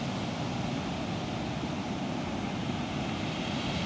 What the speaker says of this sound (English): So the waves are still a bit choppy now